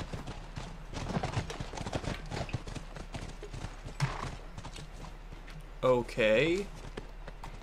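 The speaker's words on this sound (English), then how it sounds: "Back to the horses." Horses in The Last of Us video game clip-clop with a steady hoof rhythm, mid-distance, beneath frequent talk from players, with a louder burst near the end.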